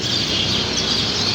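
A huge flock of birds perched on electric wires late at night keeps up a dense, unbroken chatter of calls, loud and continuous, with no single call standing out.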